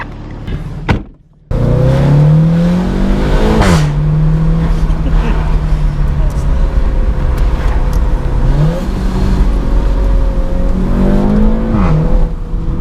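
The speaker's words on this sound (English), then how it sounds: "I don't know if you guys could hear those DSG bangs just then, but it's like someone's being smacked in the back of the head." Interior view of a Seat Leon Cupra 290 being driven hard with a DSG gearbox: a loud, steady engine drone rises through the revs, and each gearshift drops the pitch sharply with an abrupt bang, about three times in a row.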